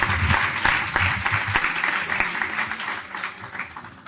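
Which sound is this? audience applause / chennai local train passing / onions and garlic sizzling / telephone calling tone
audience applause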